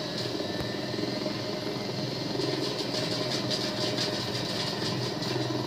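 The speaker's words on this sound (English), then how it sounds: "It's another helicopter." A helicopter in the Ghost Recon video game, a steady loud rotor and engine roar that holds throughout, with faint rhythmic thumping growing slightly stronger midway, alone without talk.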